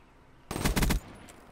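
Short burst of rapid automatic gunfire from a Call of Duty: Black Ops 3 match, about half a second of loud, dense shots with no talk over it.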